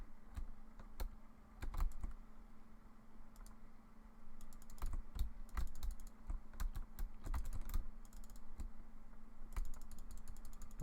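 Computer keyboard keys clatter in irregular bursts of quick taps while a mobile game is played on a PC emulator, steady faint background hum beneath, no talking.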